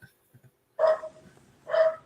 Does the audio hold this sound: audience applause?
no